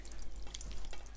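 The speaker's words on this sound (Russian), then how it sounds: "И процеживаем." A boiled decoction of dandelion petals is strained through a sieve into a frying pan, giving a soft, continuous hiss and trickle of liquid with small splashes, close and quiet.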